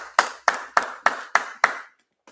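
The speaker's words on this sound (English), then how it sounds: "Go ahead and clap it up for the brothers" Six sharp claps in a steady rhythm, close and fairly loud, then a brief pause and one faint final tap; no talking.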